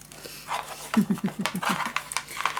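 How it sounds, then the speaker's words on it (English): A dog pants rapidly and gives short, muffled sounds in a living room, a quick rhythmic series of close breaths, with a person talking briefly nearby. "now she's barking in the living room"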